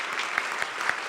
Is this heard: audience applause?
yes